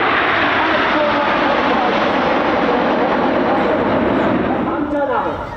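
Jet aircraft of an air show display team flying overhead at the Bournemouth Air Festival: a loud, sustained roaring engine rush that swells and slowly fades, with a commentator talking over it.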